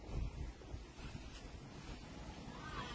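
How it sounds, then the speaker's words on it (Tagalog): Wind blowing into the microphone, producing low buffeting rumbles and gusty noise, quiet overall with a stronger thump at the start. "Mahangin kasi. Mahangin."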